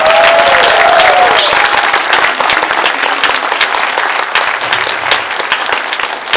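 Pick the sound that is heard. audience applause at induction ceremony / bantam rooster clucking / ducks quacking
audience applause at induction ceremony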